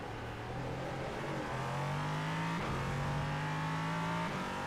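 Race car engine in iRacing, a sustained loud whine climbing steadily in pitch through the gears, with a shift near the middle and another near the end.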